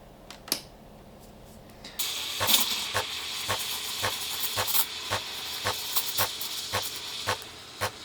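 A Sage espresso machine's steam wand hisses steadily into a jug of milk, a broad continuous rush that starts abruptly and carries on loud and close, dotted with small gurgling clicks as the milk froths.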